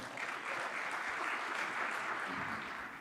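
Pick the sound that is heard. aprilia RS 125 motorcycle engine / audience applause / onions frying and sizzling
audience applause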